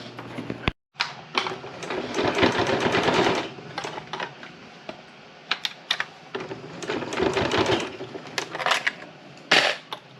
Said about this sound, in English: I am stitching on the first curve for the top of the mask that has the embedded nose piece in it